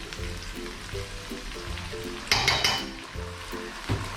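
Chili bean paste fries in hot oil in a wok for crayfish, a steady close sizzle with soft stirring scrapes and a brief louder burst of crackling midway.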